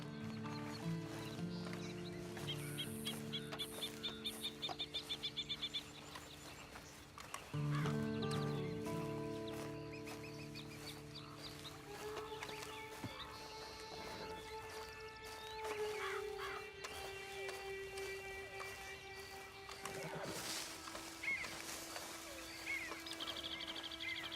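A horse neighs and whinnies in the Western video game Red Dead Online, set among sustained tonal game sounds and scattered clip-clop and bird-like calls, with no talking.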